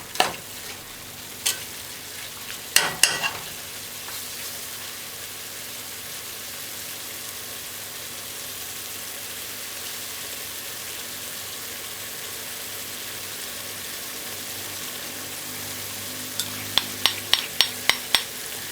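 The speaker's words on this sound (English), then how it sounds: "You're just gonna let it burn like this on high." Jamaican stew peas ingredients sizzle over high heat in a pot, a broad continuous hiss that runs throughout, with a few sharp knocks of a utensil near the start and a quick run of taps at the end.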